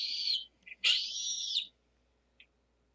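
A played recording of a hawk gives a shrill screech, a brief note, then a longer rasping scream, followed by a tiny faint chirp and silence.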